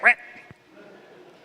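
A Spanish-speaking voice imitates a duck's quack with one short, loud, nasal honk, followed by a faint tap and a quiet murmuring tail.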